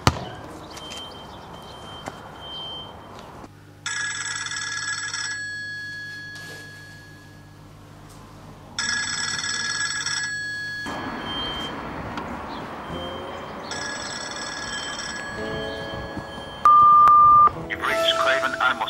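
A telephone rings in repeated electronic trill bursts with pauses between them, followed by other beeps and tones near the end.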